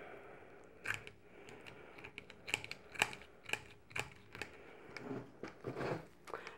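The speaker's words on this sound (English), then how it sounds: "I am using cutalls, but you can use scissors or knife, anything that will cut the rope." Cutters snip through rope while an old cat scratching post is repaired, giving a series of sharp, close clicks and crunches at an irregular pace, quiet between cuts.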